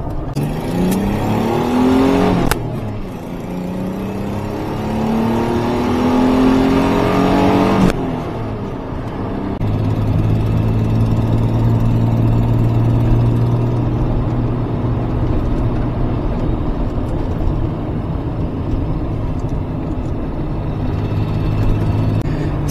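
1985 Pontiac Fiero driving and accelerating, engine revving up through rising pitch sweeps, a gear change, then settling into a steady cruising drone with road noise, loud and close from inside the car.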